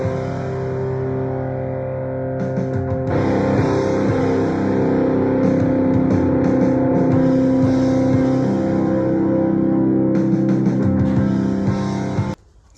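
A rough draft song demo plays loud and continuous, with dense distorted tones over a driving drum groove, before cutting off abruptly at the end.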